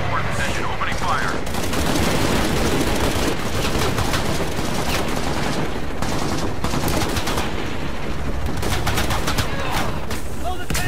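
Dense, continuous gunfire and rapid automatic bursts in the action game Shadow of the Tomb Raider, loud and sustained throughout with layered battle noise and voices shouting over it.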